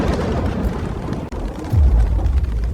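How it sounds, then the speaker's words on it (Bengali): A deep rolling thunder rumble in a ghost story on a stormy night by a river, loud and low, swelling after a brief dip into a heavier boom. "আর আকাশে বিদ্যুৎ চমকাচ্ছে।"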